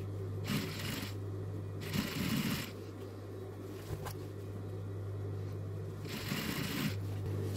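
A sewing machine stitches a fabric waistband in short bursts, with a steady low motor hum between runs and quiet handling of cloth in the pauses.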